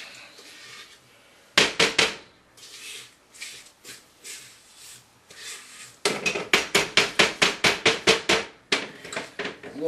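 Repeated loud metallic bangs of a cake pan on a kitchen counter, a couple at first, then a rapid series of sharp knocks in quick rhythm.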